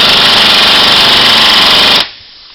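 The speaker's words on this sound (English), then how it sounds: "we use a small butterfly air ratchet" A loud, close butterfly air ratchet hammering in a rapid continuous rattle for about two seconds, then cutting off abruptly into quiet.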